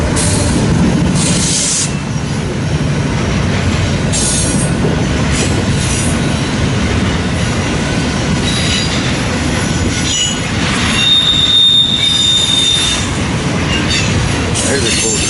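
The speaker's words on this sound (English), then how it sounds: "their trains out here are a lot longer than the trains back home" A long double-stacked freight train passes close by in Fremont, Nebraska, with a continuous loud rumble of railcars, rhythmic wheel clatter and a sharp metallic squeal near the end.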